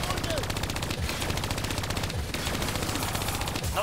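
A hijacked turret in Call of Duty: Black Ops 3 fires a loud, continuous machine-gun burst, rapid evenly spaced shots rattling close by with no break across the few seconds.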